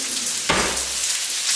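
Sliced onions dropped into hot olive oil for a spaghetti sauce, a sudden loud hiss at the start that settles into a steady, bright sizzle.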